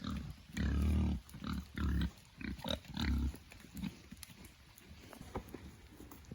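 Big pigs being led out to a fresh paddock make a string of loud, close grunts and snorts in uneven bursts, with lighter shuffling and trotting sounds between them.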